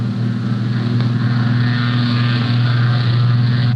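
A heavily loaded Fokker T-2 monoplane, weighing 10,000 pounds, takes off from an airfield in a steady, loud, droning engine roar that holds constant throughout, with no voices.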